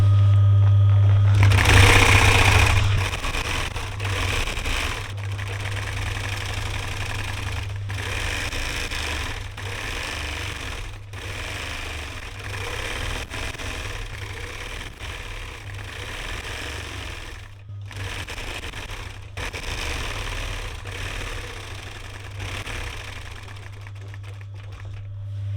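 A sewing machine stitching a campervan cushion cover with piping, running in a loud continuous rapid whirring hum with a few brief pauses and speed changes, close and alone.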